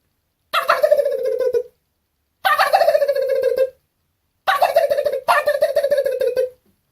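A human voice imitating a turkey gobble with cupped hands, four rapid warbling gobbles in three bursts separated by silence, loud and close.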